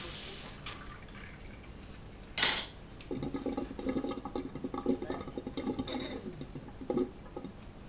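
Cutlery and dishes get washed at a kitchen sink, with running tap water, a sharp metallic clink partway through, and scattered clatter of utensils close by.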